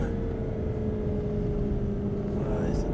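A steady engine drone holds a rising tone as an Aston Martin accelerates in the video game Actua GT, with a constant mechanical rumble underneath and a brief high blip near the end.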